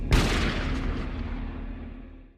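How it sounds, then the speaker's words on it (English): A single sharp gunshot cracks loudly in a forest, then a long booming echo rolls away and fades over two seconds, with no other sounds around it. "Moments later, another gunshot rings out."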